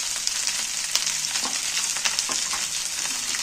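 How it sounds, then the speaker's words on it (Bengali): Carrot pieces fry and get stirred in hot oil, a constant bright sizzle with soft scraping and clinks of the spatula scattered through it, close and steady without any voices. "এইবার আমি এইটাকে তেলের মধ্যে একটু নাড়াচাড়া করে নেব।"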